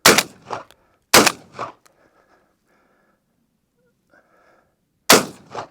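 Shotgun shots fired at targets with cheap ammo outdoors, three loud sharp blasts spaced a few seconds apart, each followed by a short echo off the distance, with near silence between.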